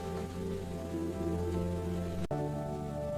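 Steady rain falls in a continuous even hiss, with a low hum underneath and a brief cut in the sound partway through; nobody speaks.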